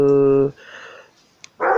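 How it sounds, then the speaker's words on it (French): A dog barks once, loud and close, then a quiet pause follows before a second bark begins at the end. "Oh, désolé, vous entendez mon chien."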